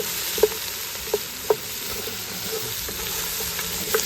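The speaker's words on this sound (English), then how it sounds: "while these vegetables saute in this oil" Mirepoix vegetables with bay leaves sauté in oil in a pot outdoors, a low steady sizzle broken by a few sharp pops and scrapes of a stirring utensil.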